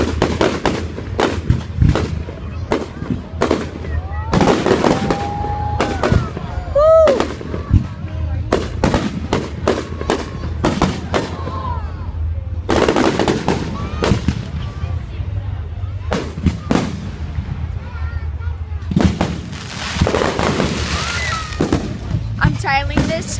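Fireworks burst in rapid, irregular volleys of sharp cracks and booms, some very close and loud, with a few whistling launches, while people shout and talk between the blasts.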